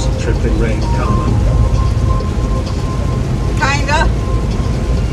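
Steady rain drums on a semi truck during a drive, with a low continuous rumble beneath and a brief high warbling sound near the end, while people talk over it.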